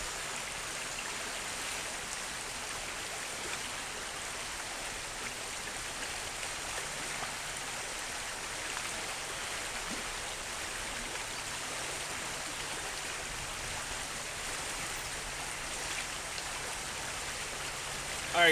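A river flowing in a steady, broadband rushing wash that stays even and close for the whole stretch, with no talking.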